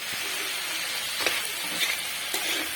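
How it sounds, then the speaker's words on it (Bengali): Snake gourd frying with grated coconut in a pan, stirred with a steady, close sizzle and faint scraping scrapes, continuous throughout with no talking. "আবারও ভালোভাবে এটিকে নেড়ে নেব।"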